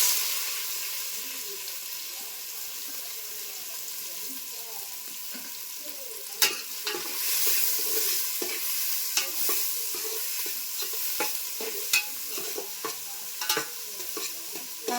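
Onions with mustard seeds soften in oil in a pan on a wood-fired stove for a raw jackfruit dish, sizzling steadily while a spoon stirs and scrapes in irregular clinks and scratches.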